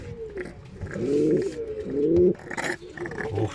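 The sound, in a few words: sick pigeon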